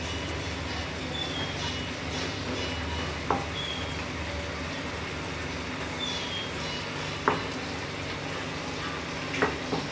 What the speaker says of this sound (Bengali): এবার হালকা করে একটু নেড়ে দিচ্ছি।